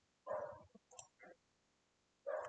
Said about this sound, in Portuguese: Um cachorro ali latindo pra caramba.